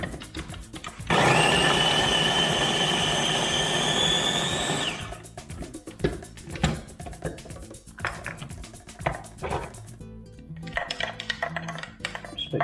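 A small electric mixer whirs steadily for about four seconds as it blends a hot nasi goreng spice paste with chilies and shrimp paste, then stops, followed by scattered kitchen knocks and clatter.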